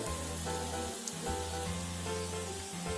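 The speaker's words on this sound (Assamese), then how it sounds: "এতিয়া মই ইয়াৰে এটা ছাইড ভালদৰে ফ্ৰাই কৰি ল'ম।" Fish eggs frying in a pan give a soft, steady sizzle with a low hum underneath, fairly quiet and continuous with no talking.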